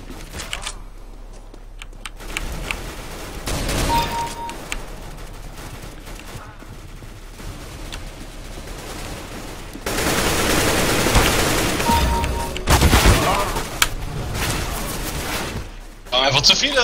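Rapid bursts of Counter-Strike: Global Offensive gunfire, sustained automatic volleys alternating with quieter stretches, dense and loud in the second half.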